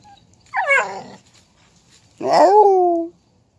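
A dog named Diamond whines and growls in two close vocal bursts, a short falling whimper followed by a longer, louder growling whine, with quiet gaps around them and no talking.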